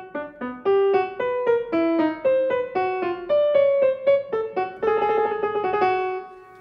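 Solo piano plays the chromatic theme of fugue no. 24 from Bach's Well-Tempered Clavier, a single melodic line of distinct notes in steady rhythm, clear and close, with a second voice entering near the end.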